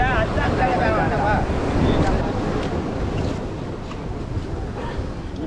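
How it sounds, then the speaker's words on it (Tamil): Sea waves and gusty wind at a large Sri Lankan fishing village make a loud, continuous rushing roar, with wind buffeting the microphone and a faint whistling tone early on. "இது கடல்"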